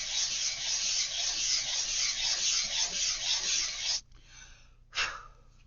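Paper is rubbed steadily across a grungy mixed media tag, a close, soft, continuous scratchy swish. It stops abruptly, then returns in one short final stroke.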